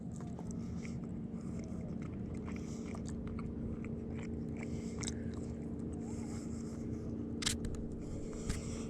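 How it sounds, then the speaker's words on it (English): Close, steady chewing of cooked walleye fish, with soft biting and mastication noises repeating over a constant low background hum, no voices. "I'm not gonna bore you with chewing sounds"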